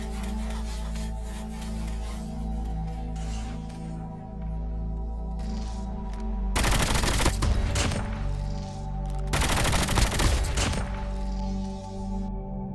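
Bursts of automatic gunfire in Call of Duty Mobile, fired while sliding and aiming, come in two loud broadband volleys over steady game music and ambience.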